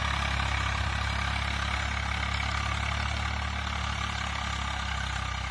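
A Sonalika DI 750III tractor pulling an 11-tine cultivator runs with a steady, droning low engine hum that stays constant throughout, with no voices.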